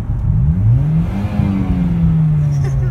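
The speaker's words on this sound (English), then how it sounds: "All YouTubers have a car that can be loud." A car engine revs loudly and steadily, its pitch rising and falling as it accelerates close by.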